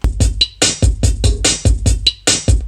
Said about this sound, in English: I added some like more consistent 16th and 8th note hi-hats